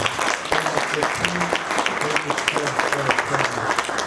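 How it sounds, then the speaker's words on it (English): Audience clapping at an inaugural lecture, a dense, steady patter of many hands held close and fairly loud for the whole stretch, with a voice sounding over it at times. "So can we please clap hands for this?"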